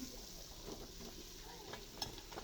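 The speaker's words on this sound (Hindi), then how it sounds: "ये देखिए जी, अभी पायों को अच्छी तरह से भूनेंगे हम।" Beef trotters frying in spice masala give a steady, fairly quiet sizzle, with a few soft stirring scrapes rising over it.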